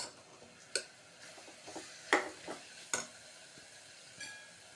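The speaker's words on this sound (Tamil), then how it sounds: "இஞ்சி பூண்டு பேஸ்ட்டு, கேப்சிகம், வெங்காயம் எல்லாம் நல்லா வதங்கி வந்துடுது" Ginger garlic paste, capsicum and onion sauté in a pan for a vegetable kurma, with a soft steady sizzle broken by a few sharp scraping stirs of a spoon, all fairly quiet and close.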